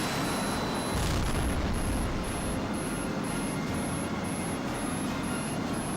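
Missile explosion in the flight combat game Tom Clancy's HAWX, a dense, roaring blast that fills the whole clip over continuous engine rumble, with a steady repeating high electronic beep pulsing throughout.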